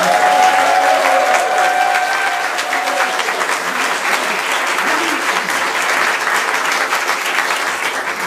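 Loud, sustained applause with some cheering from a conference audience in Quebec, honoring the organizing team of Réinfo Québec's 2025 summer tour; steady clapping fills the whole stretch, dense and close.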